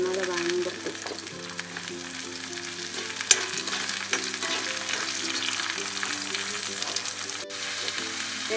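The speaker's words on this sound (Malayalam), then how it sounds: "ഇഞ്ചി വെളുത്തുള്ളിയും കുറച്ച് വഴറ്റതിന് ശേഷം നമുക്ക് ഇതിൻ്റെ മെയിൻ ഇൻഗ്രീഡിയൻസായ ചെറിയുള്ളി ഇടുക." Shallots sautéing with ginger and garlic in a pan for chicken roast, a continuous even frying sizzle with occasional light stirring taps and one sharp tick partway through, close and steady with no talking.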